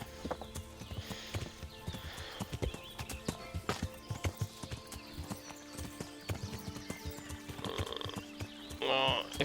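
Horse hooves clip-clop steadily at riding pace in the Kingdom Come Deliverance video game, a dense run of hoofbeats with a brief whinny and background music underneath.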